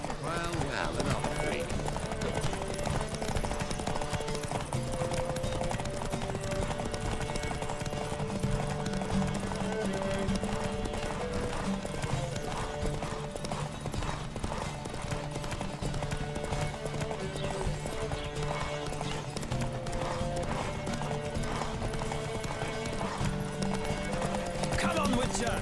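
Horses gallop in a race in The Witcher 3, with steady clip-clop hoofbeats running throughout under music and occasional voices.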